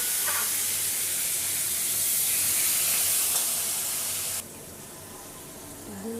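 Soaked chickpeas hit a hot pan with a loud, steady hissing sizzle that cuts off abruptly partway, leaving a quieter background with no talk.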